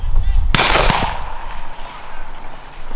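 Shotgun blasts at an outdoor dove hunt ring out sharply, one loud report followed quickly by a second, with brief echo trailing off under light background noise.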